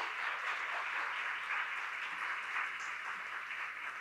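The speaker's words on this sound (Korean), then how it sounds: "큰 박수로 김동원 총장님을 맞이해 주시기 바랍니다" Audience applause at a university lecture series welcoming the university president, a steady wash of clapping from a crowd, fairly faint and distant, continuing without pause.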